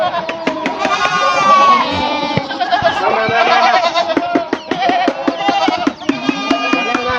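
A herd of about 80 goats on a farm keeps bleating loudly and close, many overlapping cries layered almost without pause, with a few brief knocks and rustles among them.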